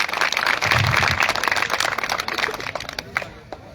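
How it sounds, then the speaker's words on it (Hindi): Applause for Uzma ji at a municipal election rally in Dehradun's Mehuwala, a dense, steady crowd clapping that fills the clip and thins slightly toward the end. "एक बार सभी साथी जोरदार उजमा जी के लिए ताली बजा देंगे"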